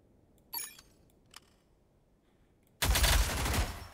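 Gunfire in a shooting mission of a video game: two brief isolated shots early, then a loud continuous burst of rapid firing that runs to the end.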